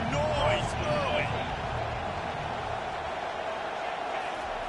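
Crowd noise fills a stadium in the NCAA 25 college football video game, a steady, dense roar at moderate level lasting throughout, with a commentator talking over it early on.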